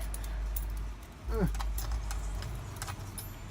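A bunch of keys jangles and clinks close by as they are handled while being sorted onto hanging hooks, with a brief burst of bright metallic rattling in the middle of the clip.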